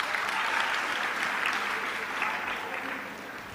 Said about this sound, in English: Another applause for her, please.